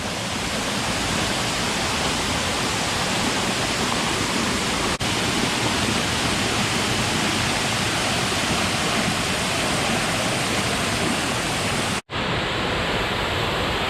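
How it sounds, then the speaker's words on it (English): A loud, steady roar of rushing water from a large waterfall on the Ricketts Glen Falls Trail, constant and close, with a brief dropout near the end. "This waterfall is huge."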